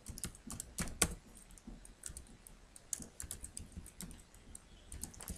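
Quick, steady keystrokes on a computer keyboard while setting up Active Directory accounts, close and fairly quiet, with no one talking.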